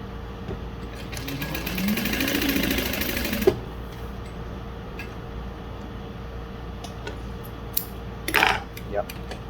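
A Juki DU-1181N industrial sewing machine stitching through cork runs in a steady buzzing whir for a few seconds, then stops with a click; later some handling clatter, all close up.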